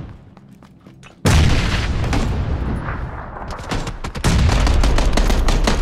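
Video game combat with a loud grenade blast followed by sustained rapid gunfire and further explosive bursts, close and dense, with no voices over it.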